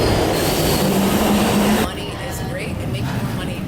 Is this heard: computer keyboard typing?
no